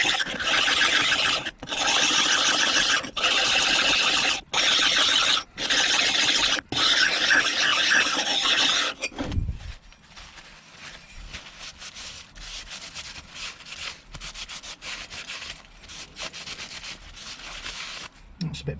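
High spots on a part of a 1977 Triumph Bonneville T140 engine are filed down by hand, a loud, rhythmic rasping in repeated strokes with short pauses that stops about halfway, leaving quiet room noise.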